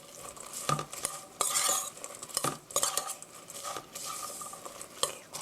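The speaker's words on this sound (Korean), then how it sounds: "이렇게 고루 섞어주세요." A spoon stirs vegetable pancake batter seasoned with ground black pepper in a bowl, giving close, irregular scraping and clinking strokes in bursts with short pauses and no talk.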